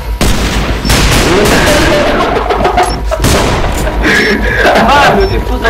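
Loud bursts of gunfire and booms in the online shooter game Alliance of Valiant Arms (AvA) over a busy, constant soundscape, with voices talking throughout.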